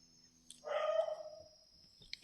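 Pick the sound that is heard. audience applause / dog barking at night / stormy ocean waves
dog barking at night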